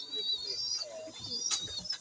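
Pigeons kept by a loft keeper cooing softly in a short stretch, with faint chirps and background noise, no voices.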